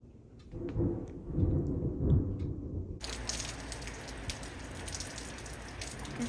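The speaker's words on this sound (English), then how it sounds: "Momo, she's so afraid of the thunder" Low, distant thunder rumbles, then steady rain sets in and hisses continuously across the rest of the clip.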